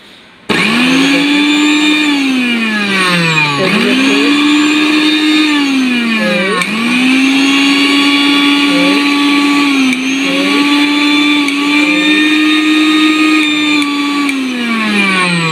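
A Vision electric blender, a 2023 model, runs loudly and steadily for about fifteen seconds, its motor whine rising and dipping in pitch several times as the load shifts, with no talking over it.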